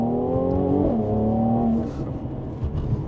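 A Mercedes C43 with its resonator deleted, running in Sport Plus mode: a loud, steady engine drone with a pitch shift partway through, then the tone drops away into a lower, uneven exhaust burble.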